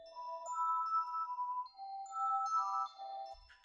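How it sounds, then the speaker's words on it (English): A glockenspiel from the Fikon Glock Kontakt library plays a bright, bell-like melody of struck notes with added reverb, ringing clearly alone with no voices. "This is a bell, a glockenspiel actually"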